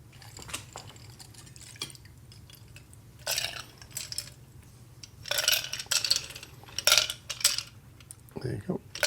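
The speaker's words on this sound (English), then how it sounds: "So we're just gonna pour these 2 in." Cocktail poured into two glasses, heard as short bursts of liquid splashing and dripping mixed with light glass clinks, close and fairly quiet, with pauses between pours.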